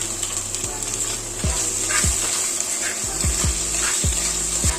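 Sliced tomatoes sauté in a pan for mackerel curry, with a continuous sizzle broken by about eight sharp scraping strokes of a spoon stirring at a fairly regular pace.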